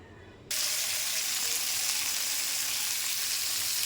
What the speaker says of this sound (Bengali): তেলে এখন মাছ ভাজা দিয়ে দেবো, একটু সামান্য হালকা ভেজে নিতে হবে